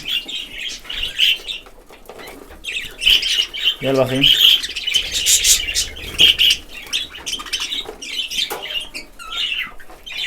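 Budgerigars, including a lutino, chirp and squawk in bright bursts with sudden bouts of wing flapping, close by, while a person speaks a few words over them.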